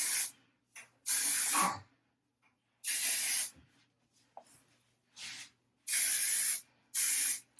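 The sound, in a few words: OGX hairspray being sprayed on hair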